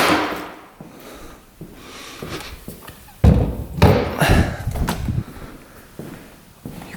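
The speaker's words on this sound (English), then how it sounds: "Let's get this gas tank on." A gas tank being fitted onto a heavily modified quad ATV: scattered knocks and clunks, a loud thump partway through followed by plastic and metal rattling, close by in a workshop.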